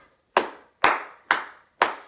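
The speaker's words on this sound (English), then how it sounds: "and then you're gonna clap" Four crisp, evenly spaced hand claps ring out alone and up close, each a sharp snap with a short decay, keeping time for the chicken dance.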